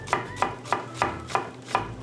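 A knife chops down through an onion on a cutting board in six crisp, evenly spaced thuds, close and clear, with no speech.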